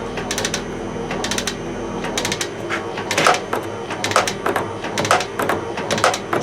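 A metal lathe fitted with a Dickson-type quick-change tool holder takes a half-millimetre cut, a steady mechanical hum broken by repeated sharp rhythmic clicks and ticks, close and fairly loud.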